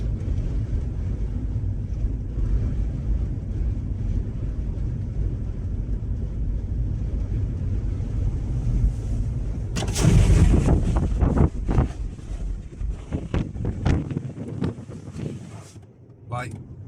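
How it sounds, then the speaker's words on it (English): Strong wind buffets a stationary outdoor camera, a continuous heavy low rumble of microphone wind noise with a louder burst of gusting and clatter partway through. "That's not me moving the camera. The camera's stationary. That's the fucking wind."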